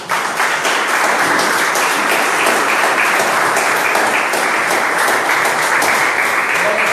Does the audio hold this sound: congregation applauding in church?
yes